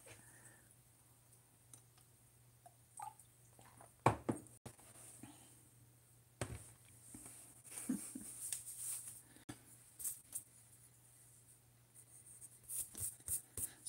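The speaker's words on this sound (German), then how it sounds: "ich zeichne lieber ein bisschen weit mit weicheren Stiften" Soft pencils scratch faintly across paper while someone draws a naked mole-rat, with quiet scattered strokes and a few light knocks and clicks in an otherwise hushed room.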